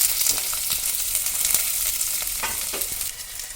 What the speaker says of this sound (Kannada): ಬೆಳ್ಳುಳ್ಳಿ ಹಾಕ್ತೀವಿ ನಂತರ ಈರುಳ್ಳಿ